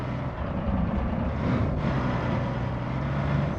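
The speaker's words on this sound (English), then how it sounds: "sitting in like an older semi-truck like that, it's just like, oh yeah. That's exactly what it sounds like." Engine of an older semi-truck in the RoadCraft video game, a low, steady diesel rumble with a constant hum, moderately loud and continuous with no voices over it.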